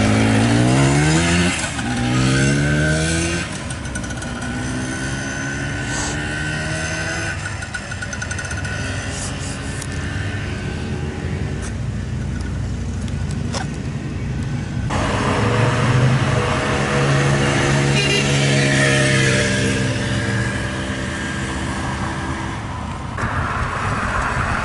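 A 1973 Harley Davidson Aermacchi TX125 motorcycle on a street demo ride, its small engine revving up and down through gear changes, passing near and loud with rising and falling pitch over road noise.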